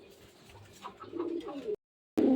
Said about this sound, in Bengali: এখানে আরেক পেয়ার টপ ক্লাস কোয়ালিটির মধ্যে রেসার কবুতর